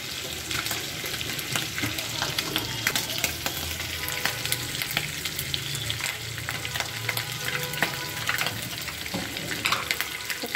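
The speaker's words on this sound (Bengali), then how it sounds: "এরপরে একটু লবণ দিয়ে চিংড়ি মাছটা তেলে ভাজতেছে আর কি" Shrimp sizzling in hot oil with salt and a little turmeric in a home kitchen, a continuous crackling fry with faint stirring and clinks, fairly quiet and without talk.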